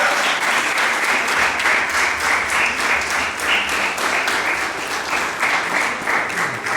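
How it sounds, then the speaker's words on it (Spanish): A church congregation applauding during a Spanish-language sermon, dense continuous clapping from many people, loud and even throughout with a slight ebb and swell. "¿Quién puede dar un aplauso a Cristo Jesús?"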